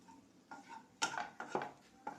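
Masala powder being stirred into curry in a pan, with a few close, soft scrapes and knocks of a spoon against the pan in short bursts.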